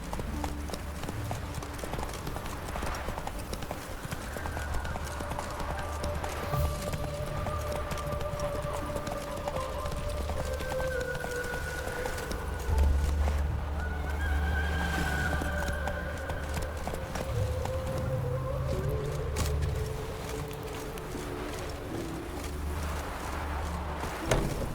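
A horse's hooves clip-clop steadily in The Witcher 3 video game, accompanied by a continuous outdoor ambience and soft musical tones, at moderate level with no talking.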